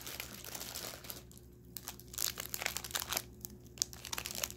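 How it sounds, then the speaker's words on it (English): A plastic bag crinkles and crackles close by in a steady run of crisp rustling bursts, with no voices. "Sorry if this bag crinkling is annoying."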